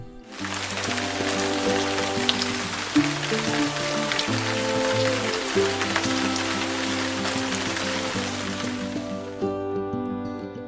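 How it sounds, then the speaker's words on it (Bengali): Heavy downpour at a roadside tea stall, a steady dense wash of rain hitting surfaces, loud and continuous for about nine seconds before cutting off, mixed with a faint steady hum. "তুমুল জোরে বৃষ্টি নেমে গেছে"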